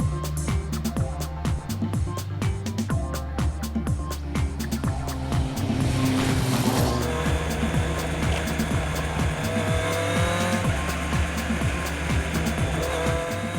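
Honda CBR600 sport motorcycle being ridden, its engine revving loudly and continuously with rising and falling pitch as it accelerates and shifts, close and steady throughout.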